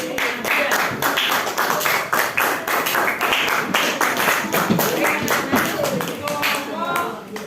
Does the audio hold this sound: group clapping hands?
yes